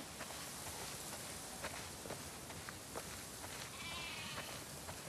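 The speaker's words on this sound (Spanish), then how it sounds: "Escuchen, ovejas. La cena está en el granero" Sheep bleat in a barn in The Last of Us Part II, several short bleats scattered over a steady ambient bed with soft shuffling hoof steps, moderately near.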